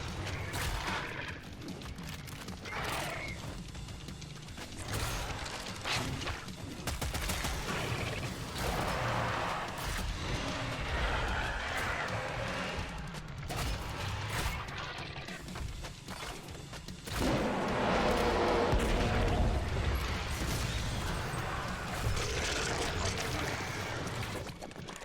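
Gameplay from the Killing Floor video game: a Brimstone fire weapon with a mechanical, gritty roar that comes in repeated bursts, growing louder toward the end amid dense in-game clatter.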